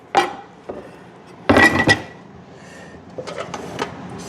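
Wonton soup with bok choy stirred in a pot: a few sharp clanks and knocks of a utensil against the pot in separate bursts, then lighter rattling, close by with no talking.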